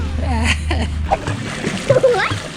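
Children splash and play in a resort swimming pool, with water sloshing close by under lively voices and laughter.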